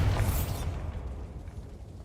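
A Bombarda blasting spell goes off in the game Hogwarts Legacy, a single loud, deep boom with a bright crackling burst at the onset that rumbles away into a low fading tail.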